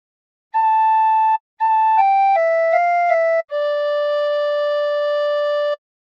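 Tin whistle playing a phrase of the hymn What a Friend We Have in Jesus: a short note, then a run of quick stepping notes, ending on a long held low note, close and unaccompanied.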